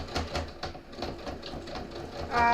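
A sewing machine stitching steadily at close range, its rapid mechanical needle rhythm running throughout and growing louder near the end, with no voices.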